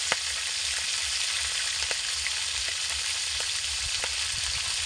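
Whole garam masala sizzles in hot oil in a kadai, a loud continuous hiss with occasional small pops and crackles, close up and without any voices.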